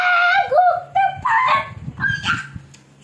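During a family no-laughing animal-sounds challenge, a child imitates a dinosaur with a run of loud, close, honking squawks that rise and fall in pitch, several strained cries in a row, ending in a softer trailing call.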